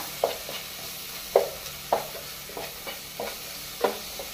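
A spoon stirring a masala mixture of coriander powder and garam masala in a pan for a Goan mixed-vegetable korma, a low sizzle under a series of about seven soft scraping knocks at irregular intervals, close and alone.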